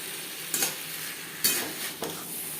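A spoon stirs potatoes and cauliflower with spices and prawns in a pan over low sizzling. Three or four distinct scraping clacks land against a steady frying hiss, close and fairly quiet, with no talking.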